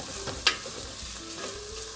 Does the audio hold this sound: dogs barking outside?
no